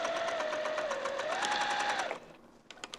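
A sewing machine set to a long basting stitch runs steadily through vinyl with Gutermann thread and a universal 80/12 needle, a rapid even whir with a faint rhythmic tick that stops abruptly, followed by a few soft clicks.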